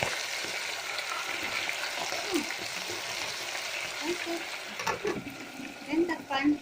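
Chicken deep-frying in oil inside a frying machine gives a steady, fairly quiet hiss and bubble, with a few soft clinks and knocks toward the end.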